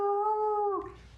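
A long, eerie wailing howl used as an effect in a tabletop horror game, held steady and loud for nearly a second before breaking off into a breathy fade.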